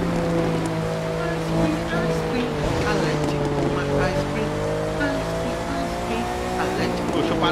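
A race car engine in the video game The Crew 2 drones loudly and steadily throughout, its pitch rising and falling gently as the car drives at speed.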